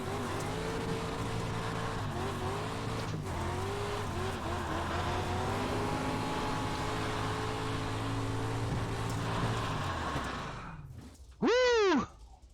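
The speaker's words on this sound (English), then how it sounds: "Why not do some burnouts?" A race car on a muddy dirt track roars through sustained burnouts, engine droning loud and close with shifting pitch, then fades out before a short rising electronic beep closes it.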